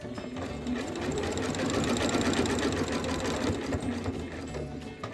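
A sewing machine runs steadily with long stitches through a scrappy lap quilt, a continuous close mechanical hum lasting the whole stretch without talk.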